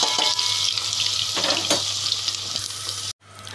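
Onion with whole garam masala spices fries in hot oil, a steady close sizzle that persists for about three seconds before cutting out abruptly and briefly resuming.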